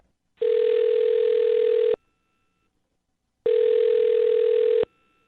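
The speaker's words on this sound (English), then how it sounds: "I'm going to dial his phone number right now" Two long, steady telephone dial tones, each lasting about a second and a half and separated by a short silence, heard clearly and alone before a call is placed.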